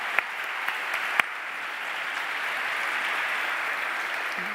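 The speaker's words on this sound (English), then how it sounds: "Let's welcome our panelists with a round of applause." An audience at a policy forum panel on Russia and Ukraine gives a steady round of applause to welcome the panelists, a soft, even wash of clapping with a few sharper claps at the start.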